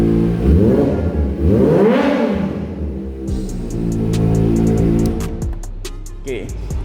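A modified Kawasaki ZX25R motorcycle engine revving indoors, loud and close, climbing and falling in pitch through repeated throttle blips, with a room echo and a few sharp clicks near the end.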